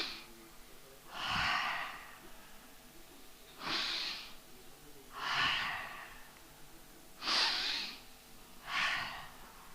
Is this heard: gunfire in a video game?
no